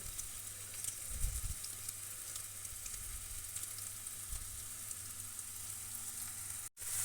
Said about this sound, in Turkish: Soğanım da kavruluyor bir taraftan.